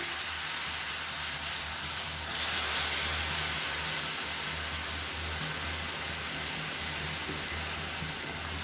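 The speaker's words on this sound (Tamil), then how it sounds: "இப்போ வந்து தண்ணியை சேர்த்துக்கலாம். நல்லா கொதிக்கிற தண்ணியாக சேர்க்கணும்." Steady hissing and sizzling as boiling water is poured into roasted semolina in a hot pan, a continuous loud bubbling roar with no break throughout.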